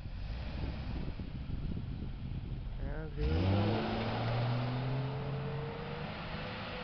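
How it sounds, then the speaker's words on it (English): A 2000 Jeep Cherokee treated with Seafoam pulls away, its engine revving up sharply mid-clip with a rising, then steady drone after low idle rumble; nearby talk precedes the acceleration. "we're getting ready to drop the hood and let them drive down the street"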